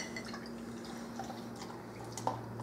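Hoppy light beer is poured into a mug, a faint close trickle with a few small drips and splashes and no talk.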